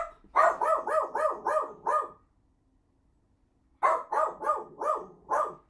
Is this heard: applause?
no